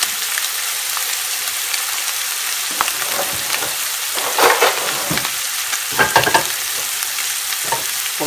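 Ham frying in a small amount of oil in a pan, a steady close sizzle with crackling bursts and scraping stirs throughout, no voices.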